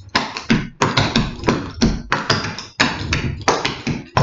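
Clog dancing taps striking a hard floor in a quick rhythmic routine, about a dozen sharp close percussive hits in grouped doubles and triples, with no talking.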